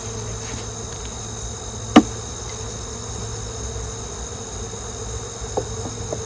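Honeybees and yellow jackets droning around a hive frame from a late-season swarm, a steady continuous buzz throughout with one sharp knock near the start and a few faint clicks, outdoors and unvoiced.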